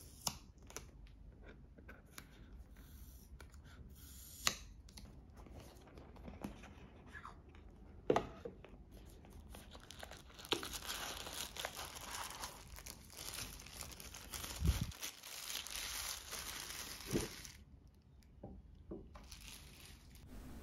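Simple white cardboard box holding a Ugreen Nexode 100W 4-in-1 GaN charger being opened and handled, with close, quiet crinkling, rustling and scraping of packaging and occasional soft taps, no talking.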